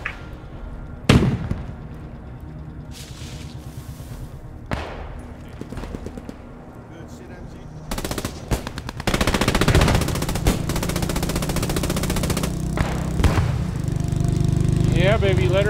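Heavy gunfire in the World War II shooter game Hell Let Loose: sharp single shots and bursts, then sustained rapid automatic fire and rumbling blasts that grow louder and denser, close and intense, with players' voices talking over it.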